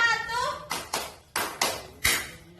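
A fourth-grade class in an Indonesian classroom claps a rhythmic pattern together in five sharp, loud group claps in uneven pairs after a short spoken cue.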